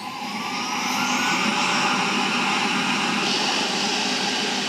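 A Roborock robot vacuum with a replaced motor runs a cleaning cycle on the floor: a steady, close, airy whine and rushing hum, constant throughout with slight shifts in pitch.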